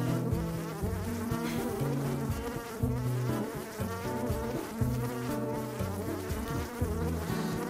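Honeybees buzz densely and continuously at a beehive tended by a beekeeper, a close, loud, steady drone of many wings throughout.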